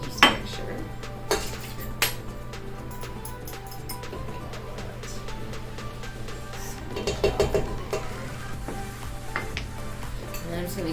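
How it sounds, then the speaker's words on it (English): Egg, milk, sugar and yeast mixture stirred by hand in a bowl in a tiny kitchen, giving scattered light clinks and soft scraping of utensils against the dish over a steady low background hum. "And then I'm just going to give them just a little mix by hand."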